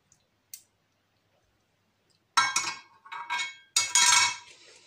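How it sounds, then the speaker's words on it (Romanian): After near silence and a couple of faint ticks, a lid is fitted onto a container of homemade caș cheese with a run of close, bright plastic clicks and clattering snaps. "Și am să pun un capac."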